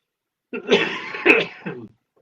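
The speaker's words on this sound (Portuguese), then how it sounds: "Para de tossir." Several harsh coughs in quick succession, close and fairly loud, with a third smaller cough trailing off after a short pause.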